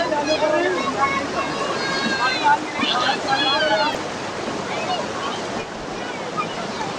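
Fast-flowing floodwater rushes over the Bithoor–Pariyar road in Unnao, making a constant heavy wash. Voices chatter over the water's steady roar.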